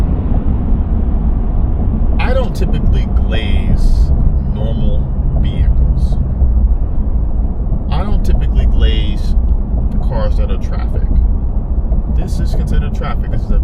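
A Ford F-150 XLT pickup's engine and exhaust drone as a steady, loud low rumble throughout, with a person talking over it.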